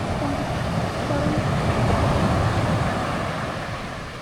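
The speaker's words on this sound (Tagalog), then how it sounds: "Tingnan nyo kung gaano kalakas yung alon" Strong ocean waves break on a beach in a continuous, roaring wash of surf, loud and close, with steady wind buffeting the microphone throughout.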